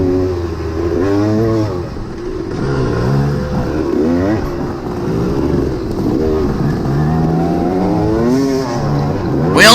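A Suzuki RM-Z dirt bike engine revs hard and loud on a farm motocross course, pitch rising and falling continuously as the rider throttles through berms, with other engines blending into the roar.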